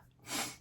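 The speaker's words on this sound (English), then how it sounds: "My allergies, I have sneeze coming." A single allergy sneeze from a woman, a soft, breathy burst that swells and fades in under half a second, fairly quiet and close, with no talking around it.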